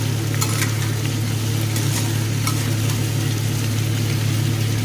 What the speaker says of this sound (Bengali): এবার এটাকে তরুলির সাথেই পেঁয়াজ আর টমেটোটাকে ভাজবো।